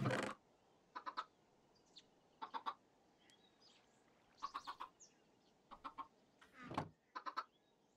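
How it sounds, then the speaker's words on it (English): Chicken in modded Minecraft (RLCraft) making short clucking bursts, several brief grouped calls spread over a few seconds, fairly close, with quiet gaps and a louder blip at the start. "Out of all of that, somehow the chicken survived."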